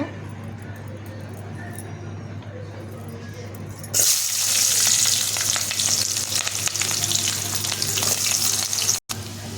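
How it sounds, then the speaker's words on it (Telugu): Onion and green chillies fry in oil for a ginger tempering, starting as a low background hum and then bursting into a loud, dense sizzle that carries on steadily until a brief cut near the end. "ఒక స్పూన్ అల్లం తాలింపు వేసిన"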